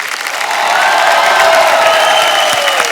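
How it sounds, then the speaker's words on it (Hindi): Studio audience at a taping of The Kapil Sharma Show, a Hindi comedy talk show, breaks into loud, sustained applause and cheering with whistles, filling the room continuously for three seconds. "एक बार जोरदार तालियां हमारे मेहमानों के लिए"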